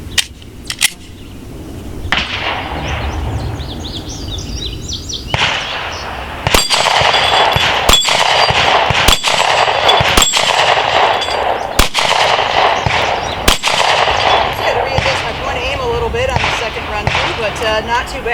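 A Glock 43 pistol fires repeatedly at a small 4 to 5 inch steel target outdoors, giving loud, sharp cracks spaced irregularly over several seconds. Faint metallic rings and muffled talk sit between the shots.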